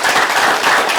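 Audience clapping at a business training seminar, a dense, steady burst of many hands filling the whole moment at close, loud level with no pauses.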